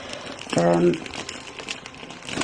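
Cellophane wrapping around a piece of fabric crinkles and rustles as it is handled, with a brief louder crackle early on and softer crinkling throughout, under a person talking.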